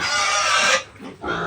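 A female pig in a farm pen oinks and grunts loudly at close range while waiting to be fed, and the sound fades briefly before the grunting returns.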